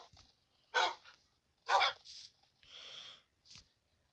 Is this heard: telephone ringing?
no